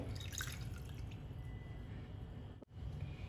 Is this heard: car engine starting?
no